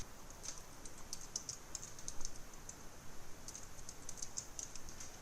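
Rapid, light clicking of text being typed on a computer keyboard, fairly close but quiet, with steady irregular keystrokes and no voices.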